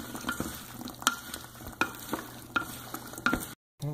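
Cowboy caviar being stirred and tossed in a bowl after a splash of cider, with repeated soft scraping strokes and clicks of the utensil, close and moderately quiet, ending in a brief silence.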